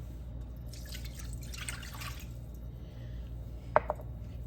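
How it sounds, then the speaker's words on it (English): A glass of Chardonnay is poured into a pot holding chopped celery, thyme, garlic and butter, a soft splashing stream for a couple of seconds followed by two small clinks, close and fairly quiet. "I'm gonna use 1 glass of Chardonnay"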